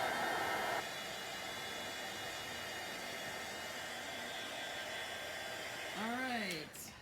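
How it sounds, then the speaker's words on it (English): A heat tool blows a steady whooshing hiss while heat-embossing a stamped sentiment, running continuously for several seconds before cutting off, with a brief voice near the end. "So that is what I think powder tools were created for, is to do the heat embossing like that."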